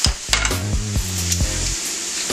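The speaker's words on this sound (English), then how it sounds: "sizzle" Water hits a hot, scorched cooking pot and sizzles, while a utensil scrapes and clanks against the metal in short, uneven bursts.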